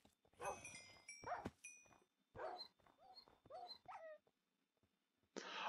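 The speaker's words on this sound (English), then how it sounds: "Our wolves attacked each other." Tamed wolves in Minecraft attacking each other: a handful of sharp game yelps and whimpers in quick bursts with gaps between, fairly close, with a brief higher tone at the end.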